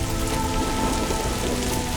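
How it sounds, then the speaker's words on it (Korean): Rain falls steadily across the Gobi desert during its June-to-August rainy season, a dense continuous patter on the ground with no pauses and no voices. "우기인 고비는 비와 함께 짧은 여름을 만난다."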